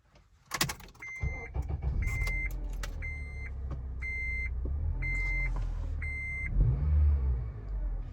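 A car fitted with new exhaust pipes is started up: repeated electronic chimes ring over a steady, close engine rumble that swells into a louder rev near the end.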